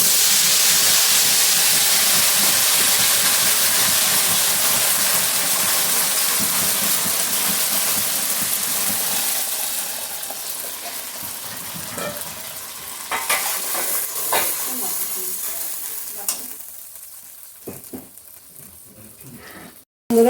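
Pre-made spice paste hits a hot pan for an egg dish and is stirred, giving a loud, hissing sizzle that slowly dies down, broken later by scattered scrapes and clicks from the stirring.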